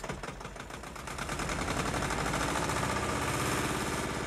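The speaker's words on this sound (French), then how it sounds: "L'ensemble est mu par un petit moteur diesel." A small diesel engine drives a modest processing installation with winnowing, running close by with a loud rapid chugging rattle that quickens slightly and then holds steady.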